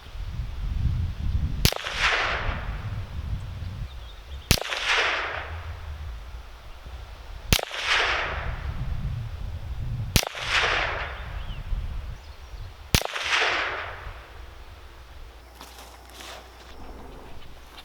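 Five sharp CMR 30 rifle shots fired one at a time at a 100-yard target outdoors, each a loud crack followed by a trailing rumble, spaced roughly every two to three seconds with steady background noise between.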